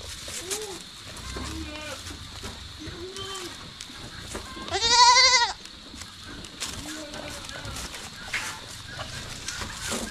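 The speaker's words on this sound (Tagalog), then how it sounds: "Yung isa nating kambing parang buntis." Goats on a farm bleat several times, some calls soft and distant, one loud, wavering bleat close by, over a steady background hiss.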